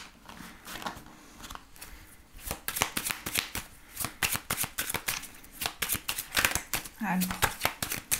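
Tarot cards riffled and cut in a series of quick, crisp shuffling bursts, close and fairly loud, with someone speaking French briefly at the start.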